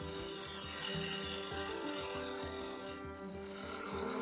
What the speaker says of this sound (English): I used the 1/4 inch parting tool to cut the outer edge down to a depth of about 4mm.